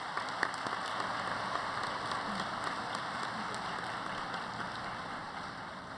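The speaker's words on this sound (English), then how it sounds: "Let's give them a round of applause." An audience at a student academic excellence awards ceremony applauds steadily, a dense, even wash of clapping that holds at a moderate level throughout without any talk.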